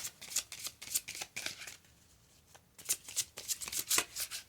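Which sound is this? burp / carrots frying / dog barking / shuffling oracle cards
shuffling oracle cards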